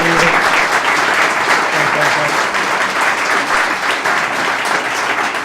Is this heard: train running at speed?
no